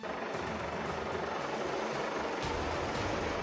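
An Indonesian TNI military helicopter, a loud steady roar of rotor and engine noise, continuous and close, with no voices.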